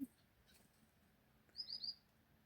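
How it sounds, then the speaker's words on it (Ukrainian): A few faint, high bird chirps in quick succession against a quiet garden background, heard from a distance. "Ось таке в мене, бачите, тут місце відпочинку. Пташки."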